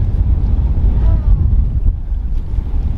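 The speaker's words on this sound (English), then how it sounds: "Stupid wind." Strong wind buffets the microphone on a New Zealand river during dry-fly trout fishing, a loud, constant low roar with rushing gusts that persists throughout.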